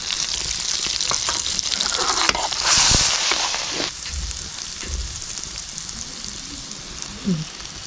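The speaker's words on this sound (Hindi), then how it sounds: "तड़का जो हमने लगाया है लहसुन और सब्ज़ धनियों का" Garlic and green coriander sizzle and crackle loudly in hot oil as a tempering for sarson ka saag, a steady frying hiss with occasional stirring scrapes and a brief louder burst.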